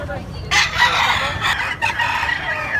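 A young rooster (stag) crowing once, loud and close, a drawn-out call over faint background murmur.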